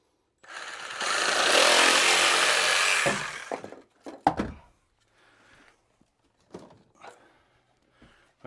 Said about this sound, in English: Let's use the old-fashioned Sawzall here.